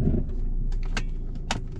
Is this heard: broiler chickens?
no